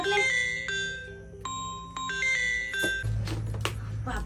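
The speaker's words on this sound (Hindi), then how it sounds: "फोन कत बजे लगले" A mobile phone rings with a repeating electronic ringtone melody of steady tonal notes, fairly loud and close, with a low hum and some noise entering toward the end.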